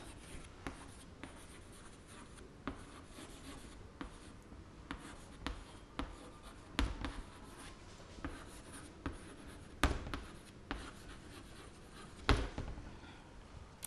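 A pen scratches across paper while writing a letter, a soft, close, continuous scribble with periodic sharper taps and strokes over quiet room noise, no speech.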